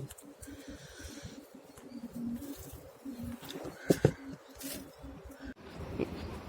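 Pigeons in a loft coo repeatedly in soft, rhythmic throaty phrases at close range, with a few sharper calls and wing or perch noises mixed in.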